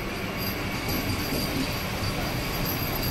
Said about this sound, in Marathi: आपली ट्रेन चालली आहे पुढच्या प्रवासाला